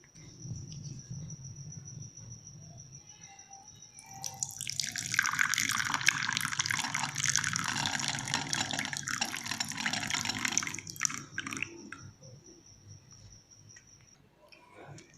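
Freshly brewed green tea is strained and poured in a steady, splashy stream lasting several seconds, with a faint high cricket-like whine running underneath.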